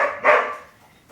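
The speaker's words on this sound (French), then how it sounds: "vu que le chien aboie derrière" A dog barks behind the speaker, one or two loud close woofs standing alone with no talk over them.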